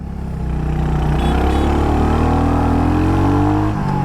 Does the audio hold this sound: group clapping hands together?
no